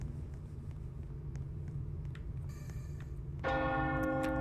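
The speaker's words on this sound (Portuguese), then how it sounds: "tá tocando esse sino aí" A bell in the video game Rainbow Friends rings out repeatedly over a low steady rumble, joined near the end by a louder, sustained ringing tone.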